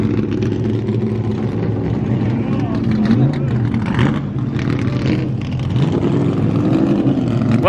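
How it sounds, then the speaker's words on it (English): A line of old Ford V8 muscle cars driving past near Laguna Seca, loud engine rumble and revving sweeping by continuously beneath talking crowd voices. "Wow, look at this lineup of Fords coming through."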